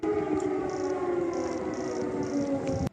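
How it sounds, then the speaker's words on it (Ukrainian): A steady, wailing air raid siren in Ukraine drones continuously in the distance, with faint intermittent higher tones over it, cutting off abruptly at the end. "чує вже звичну для українців сирену повітряної тривоги"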